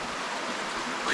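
Water rushing steadily through Deadhorse Cave, a continuous broadband wash like a stream or small fall, close and even in level throughout with no voices.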